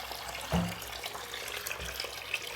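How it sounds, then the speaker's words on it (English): A hot water tap runs into a sink and drains away, a steady close trickle and splash with one louder splash early on. "Checking that the hot water works correctly, and we're checking that it drains okay."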